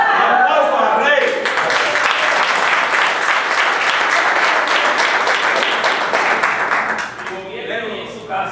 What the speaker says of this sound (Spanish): Aplausos al Rey.